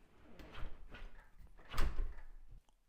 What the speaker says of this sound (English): Now we need to close the door and do the calibration.